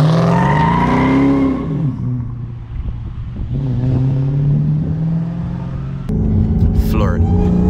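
A tuned Dodge SRT Hellcat engine revs hard with a deep rumbling roar that rises and falls, close and loud, with a sharp burst near the end as the tires spin; people talk over it.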